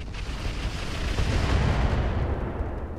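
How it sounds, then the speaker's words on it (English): Artillery barrage in the Roguetech BattleTech game, a heavy sustained rumble of explosions swelling to a loud peak midway and then fading slightly, with no voices. "Here comes the artillery."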